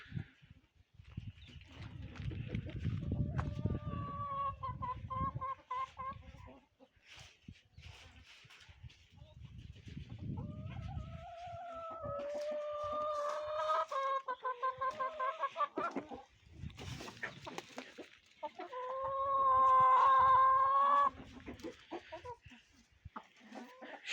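Young roosters cluck and crow in a farmyard after two days of rain, clear repeated calls in bursts across the scene, with low rumbling handling noise at times and brief gaps between calls.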